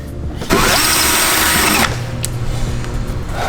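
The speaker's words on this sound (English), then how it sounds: "That's where a right angle drill comes in." A right angle drill runs in a car body bay during assembly of a rear-wheel-drive Honda Civic, a loud steady whine for just over a second before cutting off, with workshop noise trailing after.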